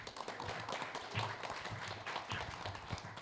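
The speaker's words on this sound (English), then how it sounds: "Applause." An audience at a venture capital panel event applauds a speaker being introduced, a fairly quiet, loose patter of many hands clapping with uneven bursts, heard from some distance.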